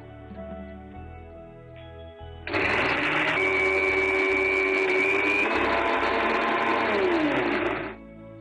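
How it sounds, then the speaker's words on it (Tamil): An electric mixer grinder blends onion and tomato into a paste, starting abruptly with a loud, steady motor whine and churning roar that holds for about five seconds before cutting off, with faint music underneath. "அதுக்குள்ள நம்ம வெங்காயம் தக்காளியை அரைச்சிடலாம்"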